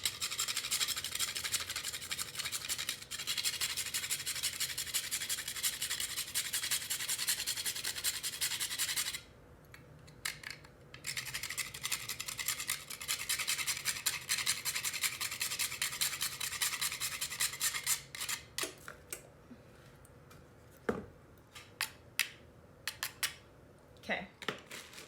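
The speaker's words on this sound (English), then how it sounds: "I have this little tiny grater, and you just want to take that nutmeg and just" Fresh whole nutmeg is grated by hand on a small, tiny grater, giving a steady, close rasping scrape for several seconds, then scattered shorter scrapes and taps with pauses.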